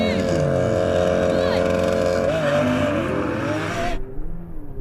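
A Ferrari 488 Pista, McLaren 720S and Lamborghini Aventador SV launch in a standing quarter-mile drag race, engines roaring loudly and rising in pitch through gear changes, then cutting off abruptly as the sound drops away.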